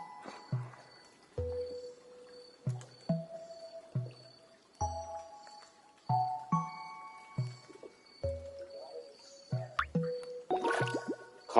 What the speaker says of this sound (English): The water's stirring.